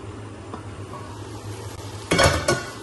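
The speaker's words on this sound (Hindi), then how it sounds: "तेज़ आग करके फिर इसकी भुनाई करते हैं शलजम डाल के" Chicken and turnips fry over high heat while a metal spoon scrapes and stirs the pan, a soft steady sizzle with a few sharp clanks near the end, close and alone.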